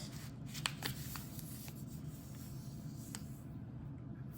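A sheet of paper being folded for a kawaii craft, with soft, quiet rustles and a few brief crisp creases close by over faint background hiss.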